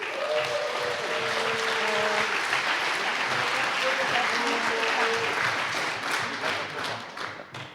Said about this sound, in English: Give them a great hand of applause.